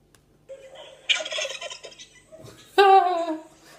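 A turkey gobbles in two loud bursts, a shorter rattling call followed after a pause by a strong, harmonic gobble, close by with no talk.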